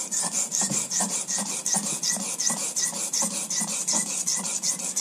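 A razor blade is worked back and forth on a sharpening stone to establish a new edge bevel, a close, steady rhythmic rasping scrape of repeated even strokes with no talking.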